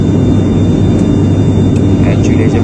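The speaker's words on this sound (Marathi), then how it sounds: "आता आपण खाली लँड होतोय. किती खालतंय का विमान" A propeller airplane drones loudly and continuously inside the cabin as it descends to land, a dense, steady engine roar that fills the whole clip.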